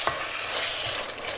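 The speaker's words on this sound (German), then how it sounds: "Die werden wir jetzt hier schön anbraten." Turkey sizzles steadily in a hot pan while a utensil stirs and scrapes through it, close and continuous.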